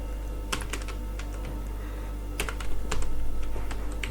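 Typing on a computer keyboard while writing web-design code: irregular clusters of close, crisp key clicks over a low steady hum, with a denser burst of keystrokes toward the end.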